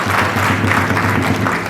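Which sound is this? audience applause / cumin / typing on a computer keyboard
audience applause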